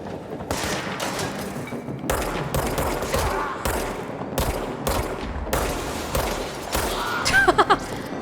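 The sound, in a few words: gunfire in the video game Control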